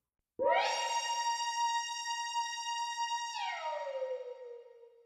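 A Screamer synth preset plays one bright, buzzy sustained note for about three seconds, then bends downward and fades. It is alone, with no voices.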